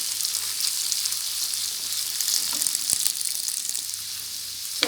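Boiled tomatoes cooking with onion in a pan, a steady close hiss and sizzle with a faint low hum and one brief clink midway.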